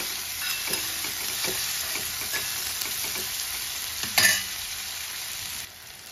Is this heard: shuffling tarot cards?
no